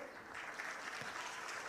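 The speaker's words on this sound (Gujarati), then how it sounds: "દરેકને આપણે તાળીઓના ગડગડાટથી વધાવીએ." Faint, distant applause rolls through a hall at a ceremony where students are honored by the Memon community in Bhavnagar, a soft continuous patter of clapping with no voices.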